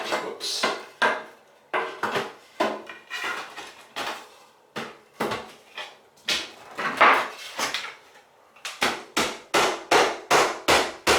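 Hammer drives nails into the trim of a new bathroom vanity with about twenty sharp, close wooden knocks. Irregular taps come first, then a quick steady run of blows at the end.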